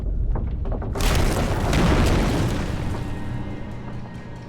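A single heavy gunshot in the video game Alan Wake Remastered booms out loud and close, followed by a long rumbling decay that slowly fades over several seconds.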